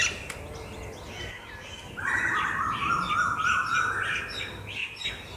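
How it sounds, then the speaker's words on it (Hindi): Birds chirp and tweet outdoors in a steady, busy chorus of repeated calls, one louder, sustained call rising from the middle onward against a background of outdoor noise. "ये देखिए पक्षी कितना चहचहा रहे हैं"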